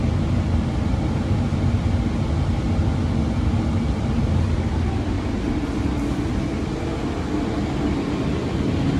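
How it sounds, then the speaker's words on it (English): A train rolls along continuously with a steady, loud, broadband rumble and rattle that holds evenly throughout without any talk. "I hope I'm taking the right train."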